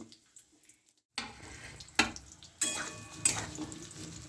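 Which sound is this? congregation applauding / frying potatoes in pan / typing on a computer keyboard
frying potatoes in pan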